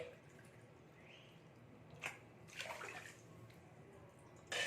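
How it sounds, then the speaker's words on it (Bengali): Water is poured from a bowl into a pan to make sugar syrup for balushahi, giving soft trickling splashes with a brighter burst near the end, faint and close with no talk. "দেখুন আমি আড়াই বাটি জল দিয়ে দিচ্ছি"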